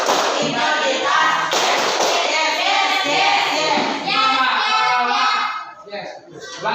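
Group of children clapping out the PPK clap routine in a classroom, dense rhythmic hand claps mixed with young voices chanting, loud and close throughout.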